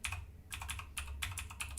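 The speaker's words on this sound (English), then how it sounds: "I hope you all like the sounds of mechanical" Quick clacky keystrokes on a new mechanical computer keyboard, rapid bursts of typing close up with brief pauses between them.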